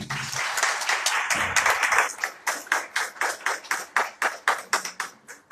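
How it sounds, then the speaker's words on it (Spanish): A church audience applauds, first a dense burst of many clapping hands, then settling into a slower rhythmic group clap, moderately loud and close. "Démosle un aplauso al Señor por Dani y Are."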